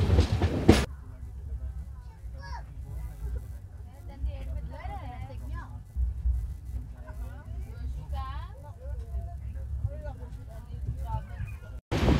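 The 12755 Kakinada Port–Bhavnagar Superfast Express pulls out of Sattenapalli station and runs on, heard from inside as a steady low rumble with occasional rattles, a sharp loud burst near the start and end, and chatter from passengers throughout.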